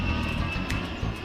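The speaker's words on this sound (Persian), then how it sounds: "این صدای هواپیماست؟" An airplane flying overhead gives a steady, droning engine rumble, moderately loud and continuous over the brief moment with no talking.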